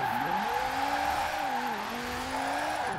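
A Formula Drift RTR Mustang drifts in Forza Horizon 4, its engine wailing loud and close as the revs dip and climb again, with tire squeal running underneath and no talking.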